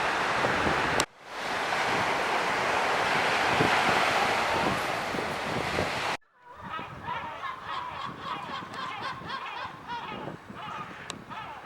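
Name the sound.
Mediterranean seaside waves and wind at port of Sète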